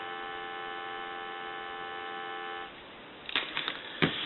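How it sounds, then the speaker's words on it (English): A steady electronic dial tone from a three-slot touch-tone payphone, with layered tones, runs for about two and a half seconds, then cuts off, followed by faint clicks and clatter. "I want to go ahead and give you some dial tone"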